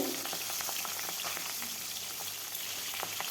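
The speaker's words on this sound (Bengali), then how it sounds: "তারপর মাছগুলো ভেজে নেব" Pabda fish fry in hot mustard oil in a kadai, giving a steady, close crackling sizzle with scattered pops and no talking.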